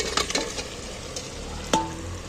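Fried potatoes and chicken pieces go into frying masala for a fennel-paste chicken curry, giving a soft continuous sizzle broken by a few stirring scrapes and a sharp clatter partway through.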